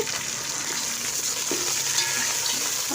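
Sliced onions fry in a pan for chicken curry, giving a steady close sizzle and crackle of hot oil throughout, with no talking.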